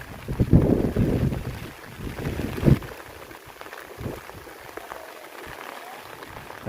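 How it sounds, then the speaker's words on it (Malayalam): Gusty wind on the Kuthirakuthimala hilltop in Idukki buffets the microphone in uneven bursts, strongest early on, then eases into a quieter, rushing background. "നല്ല കാറ്റുണ്ട്"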